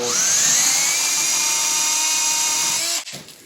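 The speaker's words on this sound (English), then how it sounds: "we'll whip that off with a chainsaw" A chainsaw's loud, steady high-pitched motor whine runs continuously for about three seconds while cutting off a branch stub, then cuts off abruptly into quieter rattling.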